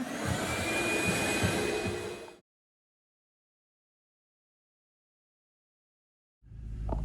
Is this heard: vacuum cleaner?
yes